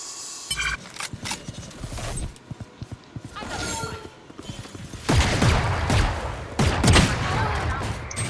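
Rapid bursts of gunfire in a video game shooter, crackling volleys that grow louder in the second half, with people talking over the shots.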